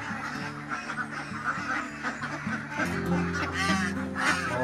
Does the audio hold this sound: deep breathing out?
no